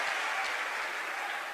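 Audience of devotees clapping together in agreement at an address by an MLA, a dense, steady wash of applause lasting throughout, moderately loud with no talk over it.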